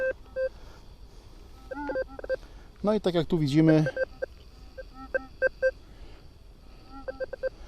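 A metal detector in mix mode, set to maximum sensitivity, gives short repeated electronic tones while searching for meteorites, with someone speaking over them in the middle.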